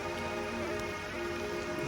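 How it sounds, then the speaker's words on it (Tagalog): Steady rain pouring down outside a house in Brunei, a dense continuous hiss with a constant low hum underneath. "Palipas ng ulan."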